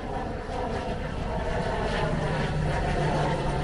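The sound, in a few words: airplane flying low overhead on approach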